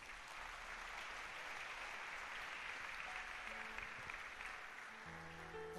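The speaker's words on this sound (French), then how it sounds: "Acclamons la parole de Dieu" A church congregation applauding during a sermon, a steady, dense wash of clapping from many hands heard from some distance, with faint tones entering near the end.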